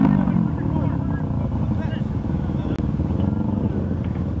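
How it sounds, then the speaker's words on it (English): A Fiat car engine revs in a loud, rough continuous roar, close and sustained throughout, with people talking over it. "Dude, don't blow your engine."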